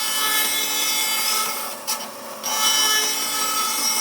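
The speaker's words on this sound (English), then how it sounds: "I'll go and cut that on the bandsaw" A bandsaw cuts a curve through overlooked timber for a footstool, giving a steady close rasping whine that dips briefly midway and then resumes.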